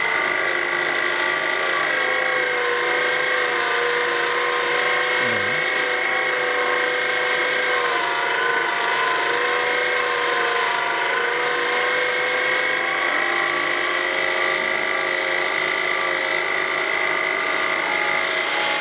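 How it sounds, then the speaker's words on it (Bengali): An electric keema machine grinds meat nearby with a continuous, loud motor whine and a layered mechanical drone, steady and unbroken throughout, with no voices. "কিমা মেশিনটা অন করে দিলাম"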